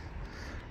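A bird, likely a crow, gives a single short faint caw outdoors near some steps, with no talking.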